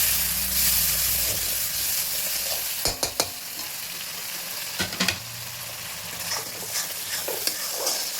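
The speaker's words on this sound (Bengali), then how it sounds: "মশলাটা নিয়ে নিচ্ছি, একটু কষে নেব, তারপরে মাংস দেবো।" Spice masala for mutton curry fries in a pan with a steady, close sizzle and hiss, while a spoon scrapes and knocks against the pan now and then.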